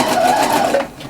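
A sewing machine runs steadily, stitching fabric to gather it, with a loud, close, continuous mechanical whir that eases off near the end.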